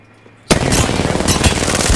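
Loud, rapid automatic gunfire from Apex Legends bursts in suddenly after a brief quiet moment and continues as a dense, sustained volley right up close.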